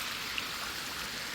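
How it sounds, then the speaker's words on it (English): Light rain falls beside a creek, a faint steady hiss of drops and running water, brief and even with no voices. "It's still kind of raining a little bit right now."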